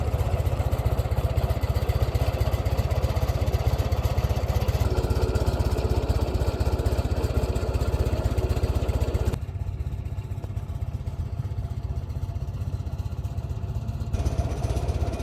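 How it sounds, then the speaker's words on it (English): A Farmall Super H antique tractor engine runs steadily nearby with a loud, continuous low rumble and faint clatter, dropping slightly in level partway through. "as you can hear behind me, the Farmall Super H is running"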